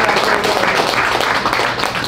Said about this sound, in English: Come on, clap it up, make some noise.